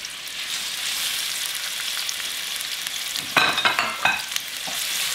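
Chopped onions sizzle in oil in a wide pot for barley soup, a steady close frying hiss with a few sharper clatters of stirring near the end.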